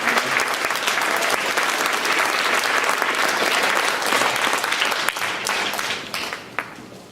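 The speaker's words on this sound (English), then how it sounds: "Can we give her a round of applause for supporting us?" Sustained audience applause from a crowd at a high school band concert, steady and full for about six seconds before thinning out into scattered claps near the end.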